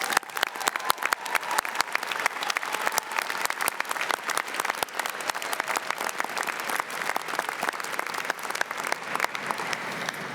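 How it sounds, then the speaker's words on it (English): A graduation crowd at an Algonquin College convocation gives a steady round of applause, with dense, even clapping from many hands that carries on for about ten seconds at moderate level without voices. "I think it'd be appropriate to give them a round of applause for their efforts"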